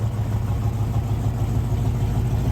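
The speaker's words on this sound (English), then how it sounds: "Hear that custom exhaust? Yeah, it's because the mufflers have been rotted out." A classic Ford Mustang engine idles with a loud, throaty, rumbling exhaust through rotted-out mufflers, steady and close, without any talking.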